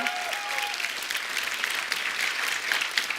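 Studio audience applause at a Hindi comedy talk show, a steady dense clapping that fills the whole stretch at moderate level with no talk over it.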